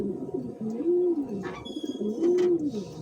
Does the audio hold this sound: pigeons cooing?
yes